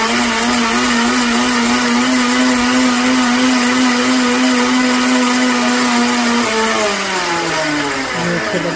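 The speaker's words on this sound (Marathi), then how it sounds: "हे सर्व छानपैकी आपण मिक्सरमधनं काढून घ्यायचे।" A kitchen mixer grinder blends raw mango with cardamom powder into a smooth panha paste, giving a loud, continuous motor whine that holds steady and then dips and shifts in pitch near the end, with no talk over it.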